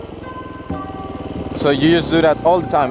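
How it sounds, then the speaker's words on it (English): A supermoto motorcycle engine idles with a steady putter, then revs in several rising, rasping bursts while the clutch is held, loud and close beneath someone talking. "So you just hold the clutch in, rev it a little, and then dump the clutch."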